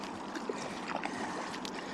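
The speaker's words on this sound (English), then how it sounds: "All right, and we're paddling." A small boat is paddled on the water off a tiny island in New York City, with soft splashes and trickling strokes over a steady wash of moving water, close by and without talk.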